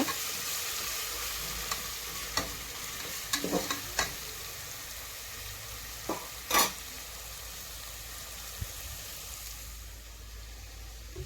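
Fresh mint stirred into a pan of frying mutton kushka in a home kitchen, giving a steady soft sizzle with a few scattered scraping clicks from the spoon and one brief louder scrape, no voices.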